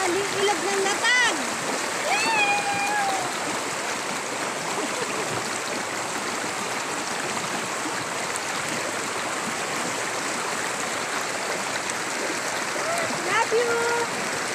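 River water rushes and splashes in a steady, full wash while people bathe in the river at Latag, with brief voices rising over it near the start and end.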